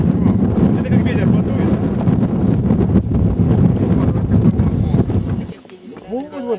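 Strong wind buffets the microphone on a Crimean mountain at about 1,527 metres in frosty weather, a loud steady roar that drops away near the end as a voice speaks briefly.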